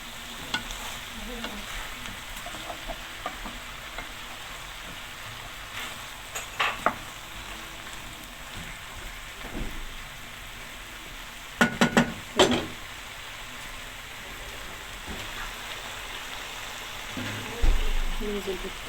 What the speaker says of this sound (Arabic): شوحت الفراخ، نزلت الصوص بتاعها